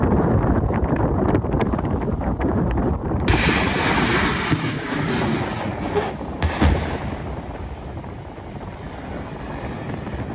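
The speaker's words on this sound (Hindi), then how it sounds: "आईएनएस इंफाल से यह मिसाइल फायर करी गई।" A BrahMos extended-range missile launched from the destroyer INS Imphal gives a sudden loud blast-like roar partway through, which then fades into wind-buffeted rumble with no speech.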